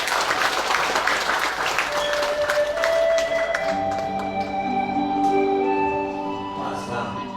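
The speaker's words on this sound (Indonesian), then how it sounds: "Tepuk tangan untuk beliau." An audience applauds a speaker at a business leadership event, dense clapping at the start that thins out as music with sustained tones rises underneath.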